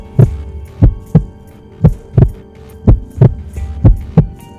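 A loud, deep heartbeat thumps in an even lub-dub rhythm, close and isolated, with a low hum underneath.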